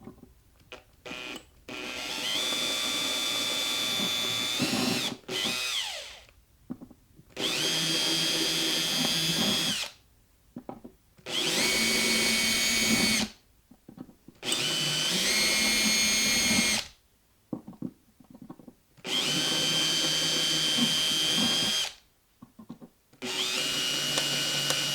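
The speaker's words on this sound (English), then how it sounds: "I'm drilling so close to the location of these plugs." A power drill bores holes into a wooden guitar bridge in repeated whirring bursts of a few seconds each, separated by short pauses, loud and close.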